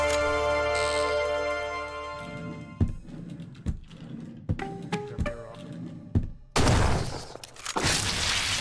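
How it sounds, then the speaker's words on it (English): Shotgun blasts from the spider-hunting video game Kill It With Fire ring out as several sharp, separate shots and thuds over a few seconds, following a sustained musical tone, and a loud burst of noise comes near the end. "Good thing I had my shotgun for the spiders."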